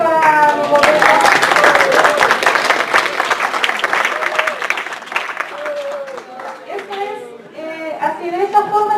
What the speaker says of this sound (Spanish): un aplauso para mi gobierno